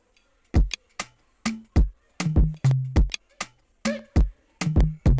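Slow drum pattern from a BandLab sample pack, with about a dozen sharp kick and snare-like hits spaced unevenly and some short tonal bass thumps, loud and alone without talk.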